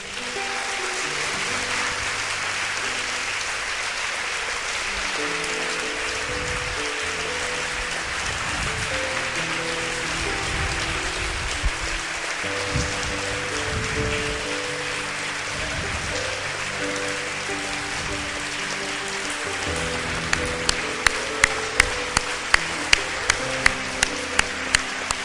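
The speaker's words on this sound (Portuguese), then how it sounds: "Você pode aplaudir o Senhor?" A church congregation in Brazil applauding, sustained dense clapping with low music or organ tones underneath, ending in a few sharp separate claps.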